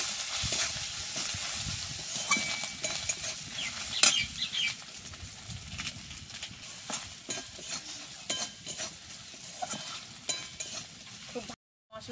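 Masala of salt, turmeric, chilli and cumin powder is stir-fried in a pan for stuffed spiny gourd curry, with continuous sizzling and brisk, repeated scraping of a spatula, close and fairly loud.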